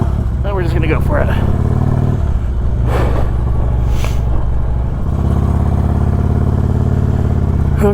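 A motorcycle ridden home at night along dark country roads, its engine humming steadily and close throughout, with a brief dip in the middle and some faint voice-like sounds over the drone.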